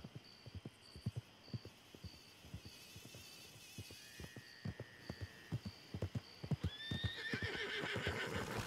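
A horse whinnies in the game Red Dead Redemption 2, its rising neigh arriving near the end over steady rhythmic clip-clop hooves and a faint repeating electronic beep, with no talk.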